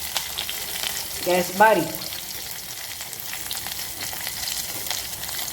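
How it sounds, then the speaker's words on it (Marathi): Curry leaves tossed into hot oil with cumin for buttermilk kadhi give a steady, moderate sizzle and fry hiss throughout, with a brief louder crackle near the start and a short spoken phrase over it. "जिरंही गरम झालेलं आहे. यामध्ये टाकूया आपण कढीपत्ता"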